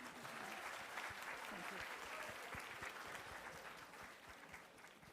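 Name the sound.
applause for the panel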